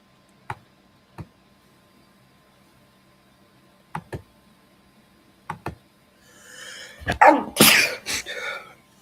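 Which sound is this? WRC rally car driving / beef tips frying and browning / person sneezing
person sneezing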